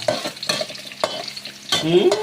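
Wangba hitting a hot pan and being stirred, with clattering spatula strokes and bursts of sizzle repeating at close range, no voices.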